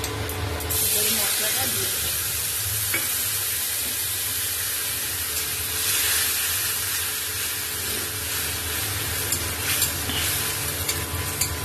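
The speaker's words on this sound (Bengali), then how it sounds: "এবার গোটা জিরে দিয়ে দেবো" Whole cumin seeds sizzle in hot oil left from frying fish for a fish curry, a steady close hiss and crackle running throughout with occasional stirring.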